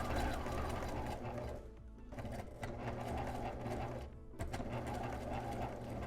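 A sewing machine top-stitches the bottom of a fabric mask onto its liner, a rapid steady mechanical chatter that pauses briefly twice and then resumes, running alone and fairly close.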